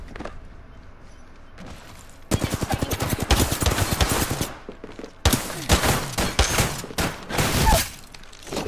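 Bursts of automatic gunfire in Apex Legends ring out in rapid volleys after a quieter opening, loud and close, with brief pauses between strings of shots and no talk over them.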